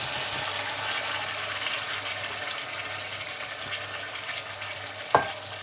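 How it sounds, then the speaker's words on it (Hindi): Potatoes and green beans frying in masala in a pan, a steady loud sizzle with scraping as they are stirred, and a sharp clink near the end. "अब इसको भूनेंगे 2 मिनट।"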